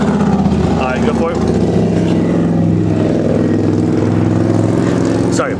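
Motorcycles passing by, their engines droning and shifting pitch with a rising whine at the end, loud behind a person talking.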